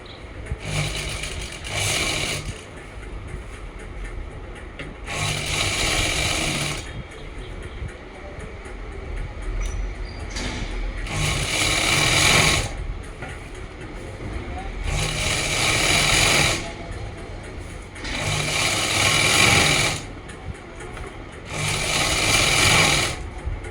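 Sewing machine stitching the leg seam of a salwar, running in about six sustained whirring bursts of two to three seconds each, separated by pauses with quieter handling sounds, close and fairly loud.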